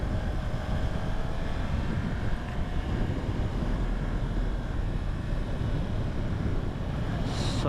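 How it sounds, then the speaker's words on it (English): Heavy wind buffets the microphone while riding a 2022 Yamaha R1 motorcycle, a loud, constant low roar that fills the whole stretch without any voices. "So windy"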